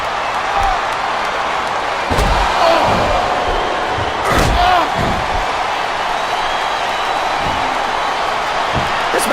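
Arena crowd noise in WWE Smackdown vs Raw 2007 rumbles steadily, with swells of cheering and a few loud slams and thuds from the ring.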